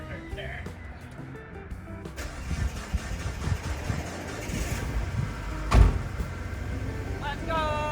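A totaled Mazda Miata is driven off a trailer, its engine running steadily throughout, with a dull thump partway through and voices in the background.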